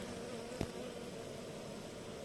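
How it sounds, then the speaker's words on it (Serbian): Honeybees hum at a small mating nucleus hive as they gather on little frames, a steady, faint drone with one brief sharp click partway through and no voices. "Lijepo uzmemo na ovim okvirićima malo pčele da se one pokupe."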